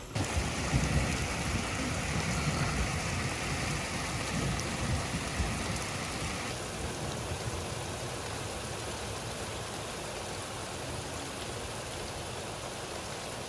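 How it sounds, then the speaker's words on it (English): Heavy rain pours down steadily in a dense, continuous roar, loud and close throughout, with a deep rumbling undertone. "I've never heard rain that heavy in this country ever before"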